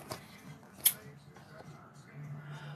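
Paper for a handmade book gets trimmed with scissors: one sharp, close snip stands out against a low background murmur, with faint voices present.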